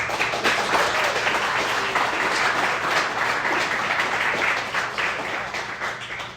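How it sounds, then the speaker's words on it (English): An audience at a data meetup breaks into sustained applause, a dense wash of clapping that holds steady and begins to fade near the end. "Another round of applause"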